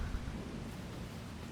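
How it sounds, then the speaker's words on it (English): Rain pours steadily with a low thunder rumble in the Farming Simulator 25 video game, a dense, even hiss over a deep rolling bass, faint and short. "Hail has turned into rain."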